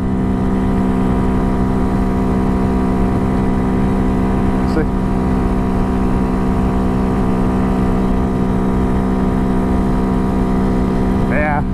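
A Honda Hawk DLX dual-sport motorcycle with an upgraded sprocket and chain on a top speed run, its engine droning loud and steady at high revs, with heavy wind buffeting throughout.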